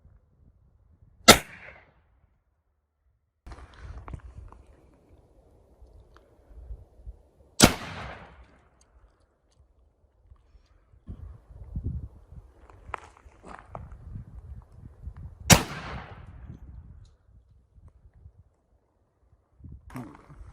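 Three sharp, loud gunshots from a cap and ball revolver fired with homemade percussion caps, spaced several seconds apart, with quiet shuffling, handling noises and footsteps between the shots and no talking.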